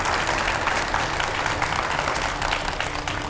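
A TV studio audience claps to welcome a guest, a dense, even wash of applause that stays loud and unbroken for the few seconds heard.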